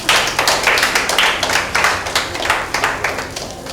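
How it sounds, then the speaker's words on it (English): Audience clapping at an announcement of names in a Nigerian film scene, steady rapid hand claps from a small group, fairly close and continuous with no talk over it. "Please clap for her."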